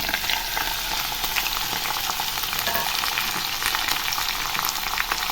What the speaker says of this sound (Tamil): எண்ணெயிலே கொஞ்சம் ஃப்ரை பண்ணிடலாம்,